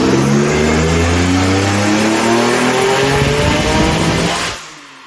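A turbocharged VQ35DE engine in a Nissan 300ZX pulls hard, its loud exhaust note climbing steadily in pitch for about four seconds before cutting off abruptly into quiet.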